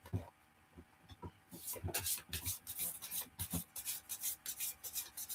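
A deck of oracle cards is shuffled by hand close to the mic, giving quick papery riffles and rubbing in a steady rhythm that picks up partway through.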